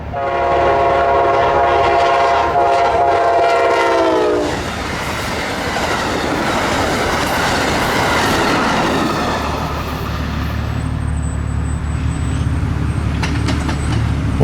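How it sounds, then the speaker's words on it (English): A southbound Amtrak Palmetto passenger train, service P089 from New York to Savannah, sounds a long, loud multi-tone horn blast, then rumbles and clatters past close by with steady wheel noise, a thin high squeal near the end. "Turned out it was just the southbound Palmetto PO89 service from New York to Savannah."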